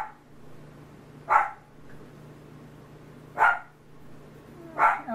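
A grandmother's dog lets out three single barks spaced about two seconds apart, each fairly loud and slightly distant, with quiet room hum between them.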